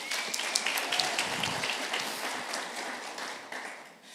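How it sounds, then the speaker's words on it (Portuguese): A church congregation claps together in a steady wash of applause that starts full and gradually thins out toward the end, with no voices over it. "Pode bater palmas para Deus?"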